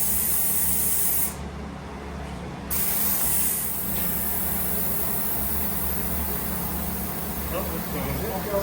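Loud, steady rush of compressed air filling a flat pivot irrigation tire to seat its bead, a continuous hiss lasting several seconds with a short dip partway through, close by.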